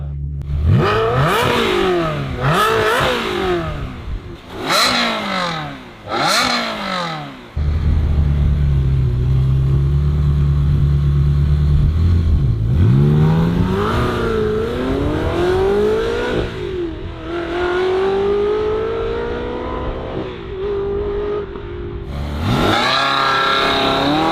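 Ferrari 360 Spider engine with a modified exhaust, revving hard in repeated loud rising and falling sweeps, then holding a deep idle rumble before climbing through long accelerating pulls.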